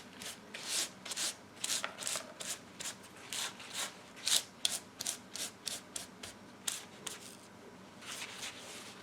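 A clean paper towel burnishes pearl powder, making soft, rhythmic rubbing strokes that repeat steadily, close and fairly quiet, with brief pauses between passes.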